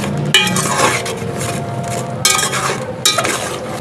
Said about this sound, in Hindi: तो मसाले में थोड़ी देर भून लेंगे।